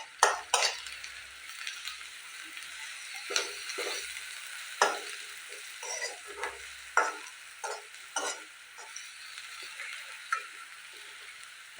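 Ginger-garlic paste and onions fry in hot oil while a spoon stirs and scrapes the pan, making a soft sizzle broken by repeated sharp clicks and scrapes, close up with no voices.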